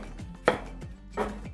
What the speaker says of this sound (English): roughly dice a quarter of a medium white onion